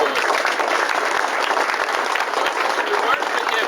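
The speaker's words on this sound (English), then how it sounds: "I must give him a round of applause." Dense, steady audience applause fills a 2003 tenth-anniversary event for a sign company, loud and continuous throughout with crowd noise blended in.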